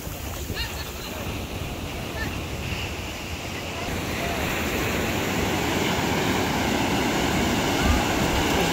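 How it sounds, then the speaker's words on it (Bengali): Sea waves roll onto the shore at a fishing spot, making a steady broadband roar mixed with wind that grows louder and fuller partway through. "এই যে ঢেউ আসতেছে, এই ঢেউর সাথে হচ্ছে মাছ আসে"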